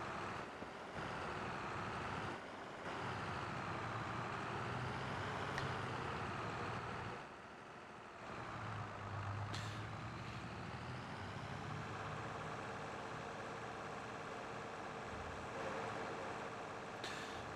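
A Fendt Favorit tractor engine drones steadily in Farming Simulator 22, a continuous loud mechanical hum with a shifting pitch and brief dips while it drives, with no talk over it.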